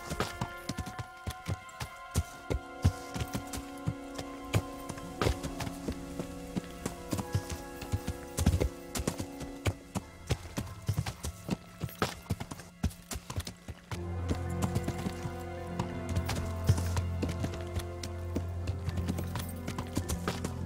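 Steady clip-clop of horse hooves in the medieval game Kingdom Come: Deliverance, a continuous rhythmic trot under soft background music, with no talking.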